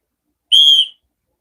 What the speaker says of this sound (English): Did you make super loud whistle?